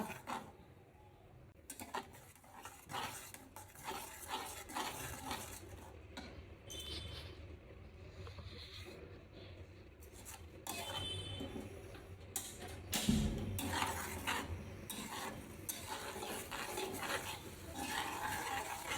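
A paste of onion and green chili sautés in a pan while it is stirred. Faint scraping and light clinks tick along irregularly over a quiet, low sizzle, with no talk.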